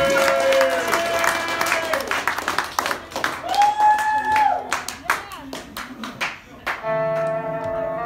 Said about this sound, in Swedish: Ge er själva en applåd också.